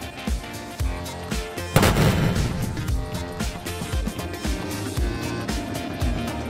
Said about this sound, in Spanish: ¡Hay que usar los cañones de estribor!